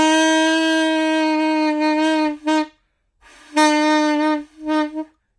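A beginner blows a saxophone without using the fingers, producing a steady reedy tone with rich harmonics that wavers from unstable air, then breaks off and restarts in short uneven bursts.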